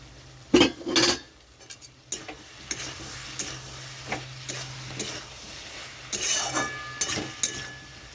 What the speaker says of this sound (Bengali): তো চাপাটা নামিয়ে নিচ্ছি।